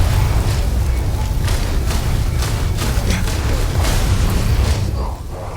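Repeated heavy booms from cannon fire in Starfield, loud and rapid, with crackling blasts overlapping, then tapering off near the end.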